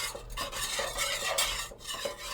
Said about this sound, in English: We're going to keep stirring and stirring.